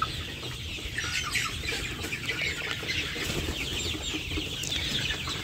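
Sonali chickens cluck steadily on a poultry farm, a dense overlapping chorus of hens with occasional wing flaps, close and continuous throughout with no talking.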